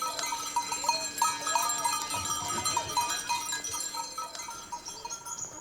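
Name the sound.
goats in the Alps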